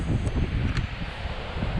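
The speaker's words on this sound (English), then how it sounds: "How do you like your mountain windstorms?" Steady roaring mountain wind on a hiking trail in Big Bend National Park buffets the microphone, a constant low rush with faint rustling, no voices.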